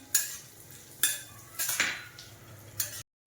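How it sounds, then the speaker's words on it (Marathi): Cashews roasting dry in a pan, stirred with a spoon: several sharp scrapes and clinks against the metal at irregular intervals over a faint sizzle, quiet and close. "याच्यात घालूया काजू आता काजू चांगले असं खरपूस होईपर्यंत भाजायचं आहे"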